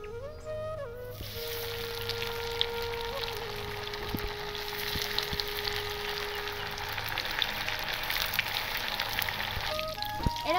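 Lote fish (Bombay duck) fillets coated in biscuit crumbs sizzle steadily in hot oil, a dense, continuous crackle with small pops throughout.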